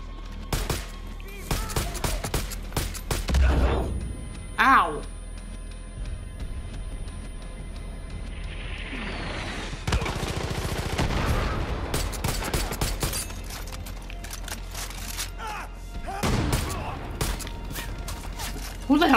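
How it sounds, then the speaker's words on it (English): Gunfire and mortar blasts in the video game Far Cry 5, with repeated sharp shots and bursts spread across the clip, some heavier impacts, and someone talking over the combat. "Who the hell is shooting at me?"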